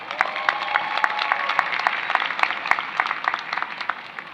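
Crowd applause rolls steadily through a commencement ceremony for a university's College of Health & Human Development, a dense wash of clapping with sharper individual claps standing out.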